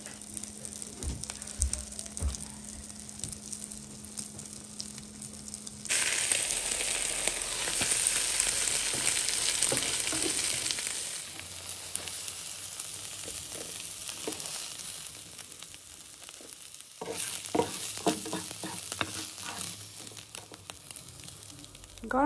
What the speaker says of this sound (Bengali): তো এখানে মজা ডিম ভাজি হচ্ছে।